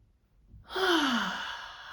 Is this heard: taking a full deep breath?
yes